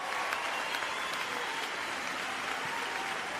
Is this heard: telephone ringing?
no